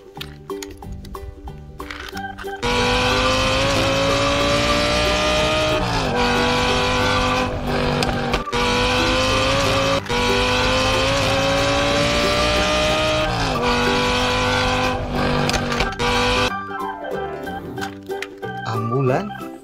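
A supercar engine revs hard in long rising sweeps with squealing tires. The loud, close sound runs unbroken for most of the clip and stops abruptly near the end.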